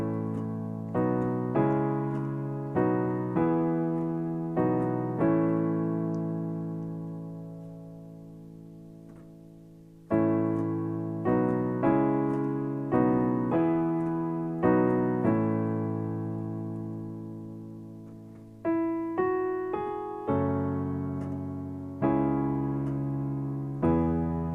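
Solo piano plays a simple accompaniment to a song, with repeated sustained chords struck in a slow, even rhythm, each left to ring and decay, and long held notes between phrases.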